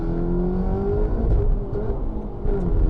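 Peugeot 308 RC on a race track, engine droning loud and close from inside the car as its note climbs steadily while the wheels spin in second gear.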